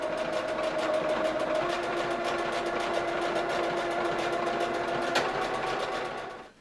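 A sewing machine runs a vest seam in one steady, close, rapid stitching whir that holds for several seconds before slowing and stopping at the end.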